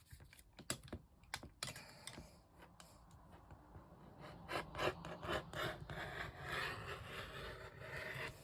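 A rotary cutter slices a 2.5 inch strip from quilting fabric on a cutting mat, producing faint clicks followed by a soft scraping, rubbing run, close and quiet with no voices.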